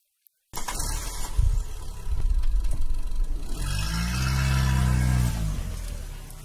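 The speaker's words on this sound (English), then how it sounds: "Yes, a car driving." A car engine turns over and starts, then runs and revs steadily as the vehicle drives off, fairly close and loud throughout.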